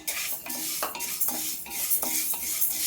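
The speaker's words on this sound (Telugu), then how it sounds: "కడాయిలో పెసలు పప్పు వేసుకొని" Moong dal roasting in a kadai, stirred with a spoon that scrapes and clinks against the metal in a steady rhythm of strokes over a dry, close hiss.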